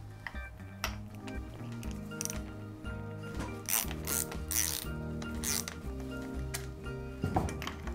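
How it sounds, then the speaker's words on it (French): A ratchet wrench with a 24 mm socket clicks in quick bursts of pawl ticks, separated by short pauses and repeated several times, close up and fairly quiet, with light metallic handling sounds between the strokes. "une douille de 24"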